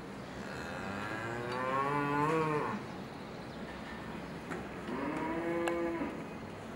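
Cows low on a Dutch dairy farm, two long, drawn-out moos about two seconds apart, fairly close and clear over a steady background hum of the barn.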